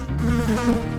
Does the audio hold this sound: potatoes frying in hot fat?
no